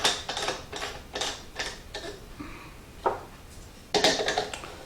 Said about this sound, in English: I just screw the switch into the socket